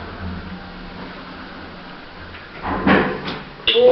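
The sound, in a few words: lift doors opening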